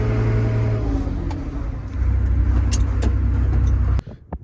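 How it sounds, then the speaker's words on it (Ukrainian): Six-cylinder engine of a John Deere 1157 combine harvester running and revving, a loud steady low drone with pitch shifts and a few clunks, cutting off abruptly near the end, with no speech. "А звучок шістерочки тут просто пісня."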